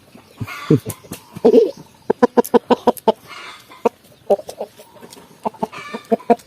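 A large native rooster clucks in quick, loud, close bursts, with irregular runs of sharp calls and brief pauses between them.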